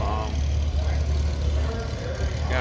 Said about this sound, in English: Them H's, those letter series tractors, they just purr right along.